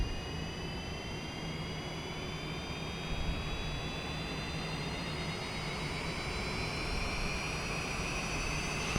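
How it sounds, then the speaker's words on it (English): Airliner engine number two spooling up in Microsoft Flight Simulator after pushback, a steady loud jet whine with rising high tones over a broad rumbling roar, continuous throughout. "let's start up. Engine number 2."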